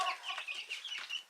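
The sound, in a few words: chickens clucking in a chicken house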